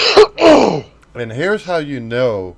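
A brief cough or throat-clearing burst opens the moment, followed right away by someone talking.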